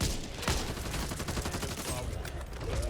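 Rapid gunfire from the zombie shooter Back 4 Blood crackles in dense, continuous bursts, loud and close throughout, with a voice faintly mixed in beneath the shots.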